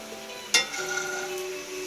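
Beef tacos go into hot oil in a skillet with a brief sharp crackle, then settle into a soft, steady sizzle, close up and with no talking.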